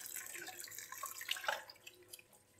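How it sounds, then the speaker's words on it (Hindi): Tap water poured over freshly boiled rice in a strainer, a close, broadband splashing rush with scattered drips and trickles, steady throughout with no talking. "इस पे हम नल का पानी डाल देंगे।"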